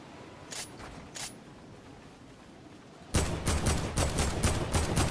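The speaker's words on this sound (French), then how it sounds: "Bah là, ma balle, là, j'ai tiré." Gunfire in a battle royale arena game: two sharp isolated shots early on, then after a brief lull a loud, dense run of rapid shots with near-regular spacing, close and dominant, no talking.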